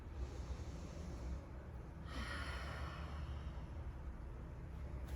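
A long, deep exhale during a slow yoga stretch, rising in a soft breathy rush midway through and fading out against steady low room hum, close and fairly quiet.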